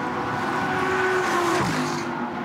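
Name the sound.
race cars going flat out through Eau Rouge at Spa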